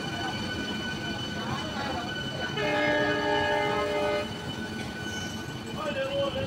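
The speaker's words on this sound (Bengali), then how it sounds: "খড়গপুর লোকাল হয়ে এখন বর্তমানে রামরাজাতলা স্টেশনে প্রবেশ করেছে" A Howrah–Kharagpur EMU local train pulls into Ramrajatala station on the South Eastern Railway, its steady rumble topped by a loud horn blast lasting about two seconds, with a voice talking underneath.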